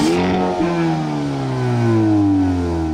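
A Dacia Sandero's exhaust in normal mode, a steady mid-pitched engine drone that holds near and loud, with a slight rise in revs partway through and no talking.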